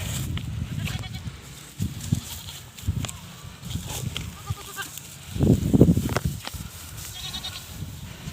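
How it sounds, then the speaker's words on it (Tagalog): Goats bleat several times at a moderate distance, with one louder, closer bleat near the end over soft outdoor background noise. "Ayan o, nabuhol na naman yung kambing natin."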